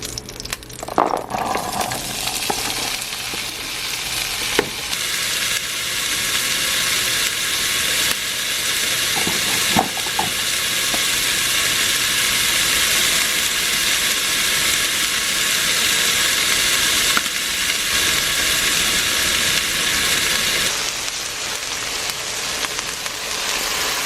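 Meal-prep vegetables cook in a hot pan, a loud, steady, broad sizzling hiss that swells after a few clattery stirs at the start and holds nearly unbroken to the end.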